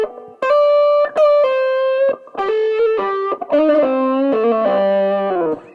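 Electric guitar through a Blackstone overdrive pedal's red channel, with overdriven, saturated tone plays sustained single notes and short melodic phrases, clear and upfront with no talking.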